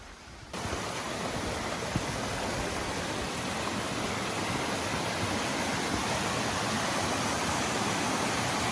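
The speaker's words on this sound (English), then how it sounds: "this is Irish Creek Falls. And there's just several cascading pools all the way down." Irish Creek Falls on Little Irish Creek in the Blue Ridge pours down over several cascading pools. The water makes a loud, steady rushing roar that fills the whole stretch with no voices.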